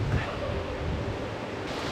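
A river in the Italian mountains rushes steadily and close, a dense, continuous wash of flowing water with no break over the two seconds.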